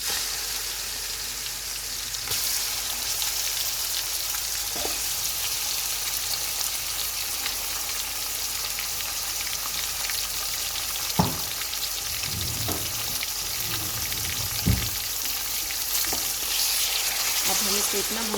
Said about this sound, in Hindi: अब हम इसको इतना भूनेंगे कि इसका बीफ का अपना पानी जो है वो ड्राई हो जाए।